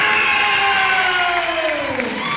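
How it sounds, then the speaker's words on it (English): Crowd at a girls' high school basketball game in Knox stands and claps for a player, a loud steady wash of applause and cheering with a sliding whistle-like tone running through it. "everyone stands and claps for Morgan"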